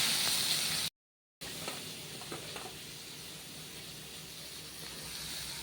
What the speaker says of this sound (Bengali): আর কালো জিরে শুকনো লঙ্কা ফোড়ন দিলাম